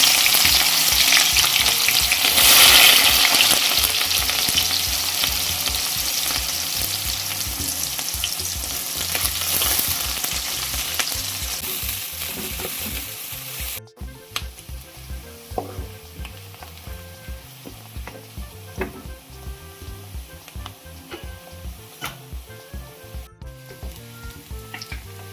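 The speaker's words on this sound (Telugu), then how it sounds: "ఆయిల్ హీట్ అయిన తర్వాత కట్ చేసుకున్న 2 ఆనియన్ వేసుకోవాలి." Two cut onions hitting hot oil in a kadai for a simple chicken gravy, a loud, bright sizzle that settles down halfway into quieter frying with repeated stirring clicks and scrapes, close and without talk.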